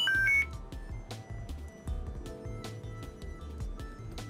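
Arduino-generated musical note tones encode a message for machine-to-machine audio communication, including a C#7 end-of-letter marker. Short beeping notes play in quick uneven sequences over a low pulsing pattern, at moderate level, with no speech.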